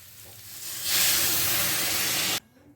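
Water is poured into a hot pan of soybean and potato curry, setting off a loud, steady hissing sizzle and steam that lasts more than a second before cutting off abruptly.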